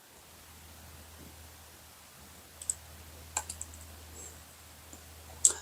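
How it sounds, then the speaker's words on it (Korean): A few sharp, quiet right-clicks of a computer mouse spaced irregularly over a low steady hum, near the end. "마우스 우클릭을 해야 되네요."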